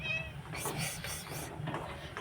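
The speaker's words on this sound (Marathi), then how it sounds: "हे बा आमची मांजर आली, तुम्हाला दाखवते" A cat gives a short meow at the start, close and fairly quiet, indoors at night, and a voice speaks over most of the clip.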